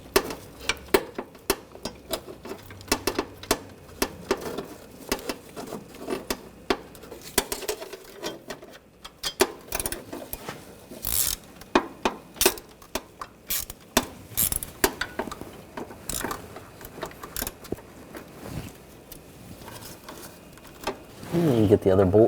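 Ratchet wrench clicking as starter mounting bolts are run in on a 2004-2012 Chevrolet Colorado with the 3.7L engine, irregular bursts of metallic ratcheting and tool clatter between pauses, close by, with someone talking intermittently.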